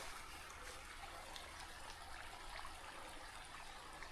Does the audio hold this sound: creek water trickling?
yes